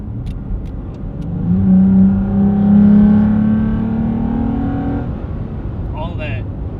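Toyota Tacoma (2016-2020) with an S&B cold air intake revs up loudly and holds a strong, rising intake roar for several seconds before easing off, with people talking over and around it.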